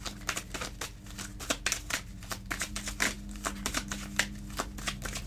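Playing cards being shuffled and drawn, with a rapid run of crisp riffling flicks and snaps close up, steady and quiet under a faint background hum.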